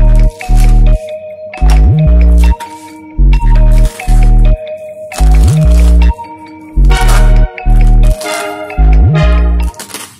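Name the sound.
finely chopping gadal leaves and green chilli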